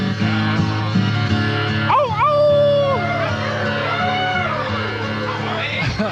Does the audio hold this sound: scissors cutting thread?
no